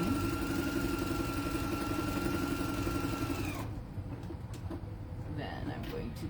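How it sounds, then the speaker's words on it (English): A sewing machine stitches a seam down on a fabric pot holder, a steady close mechanical whir with a faint hum that runs for several seconds and then stops, leaving quiet handling sounds. "And then I'm going to sew it down. Just 1/4 inch from the seam."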